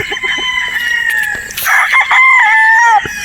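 A Sweater Boston gamefowl rooster lets out one loud, close crow, preceded by a few soft clucks and scratchy shuffling, with no talking over it.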